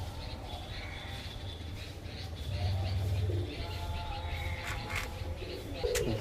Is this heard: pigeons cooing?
yes